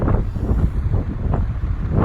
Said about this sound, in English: It's windy. New Mexico remains windy.